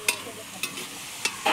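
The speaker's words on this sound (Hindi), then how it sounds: "बीन फ्राई चलि" Beans fry in a pan with a steady low sizzle, broken by three or four quick, close scrapes as they are stirred.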